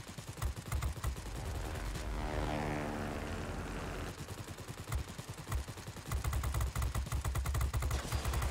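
Enemy bot planes in a PC flight video game, propeller engines droning and swelling as one passes close by, with bursts of rapid machine-gun fire before and after. No one speaks.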